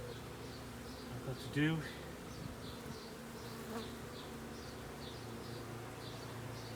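Honey bees hum steadily and close during a hive inspection, a continuous drone with occasional louder passes, while someone speaks briefly over it and something knocks faintly.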